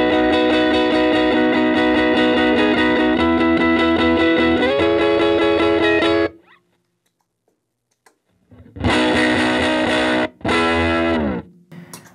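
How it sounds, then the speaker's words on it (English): Electric guitar through a Color Box distortion blended with a clean compressor, playing chunky fuzzy yet bright chords loudly, with a pause midway before two more loud strummed bursts. "I get the chunk and the fuzz from the color box, but the clarity and the brightness from the clean compressor"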